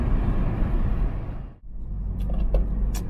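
Hyundai Sonata N Line fitted with a Go Fast Bits Respons blow-off valve drives past, a loud continuous engine roar that dips briefly mid-pass, then rises again with faint hissy bursts near the end.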